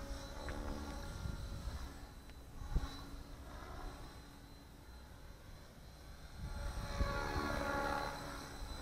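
RC helicopter rotor on a Spirit II flybarless setup spinning up at 2200 RPM, a steady whirring drone with buzzing harmonics that swells, dips mid-clip and rises again, close and alone without talk.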